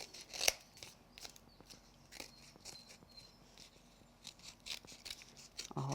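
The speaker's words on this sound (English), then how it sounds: "we'll take our scissors and trim away the extra bit" Quiet, repeated snips of scissors cutting through paper, short crisp strokes at an uneven pace, close by with no talking.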